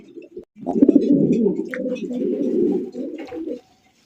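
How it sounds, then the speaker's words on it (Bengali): Racer pigeons coo in low, throaty warbling phrases, close by, lasting a few seconds before stopping, with faint chirps above. "আরো এক জোড়া রেসার কবুতর দেখেন"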